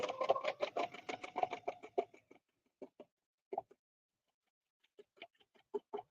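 A home sewing machine stitching fabric, a fast close rattle of needle strokes that stops and then starts again in short bursts, fairly quiet with no voices.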